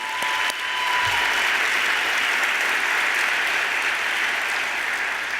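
A large audience claps steadily and loudly through the whole stretch at the 18th Grands Prix Desjardins gala of the Défi OSEntreprendre in Quebec, a dense, even wash of applause with no voices over it.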